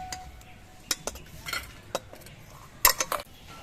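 Green chilies are stirred in a frying pan and lifted out with a metal utensil: scattered scraping and clinking strokes, close and fairly quiet, with a sharper clatter near the end over a soft sizzle.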